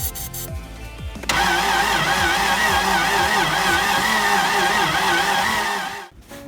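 A Toyota Land Cruiser FJ60 engine cranks in a few short starter bursts, catches, and then runs loud and steady at a rough idle after a coil replacement, dying out near the end.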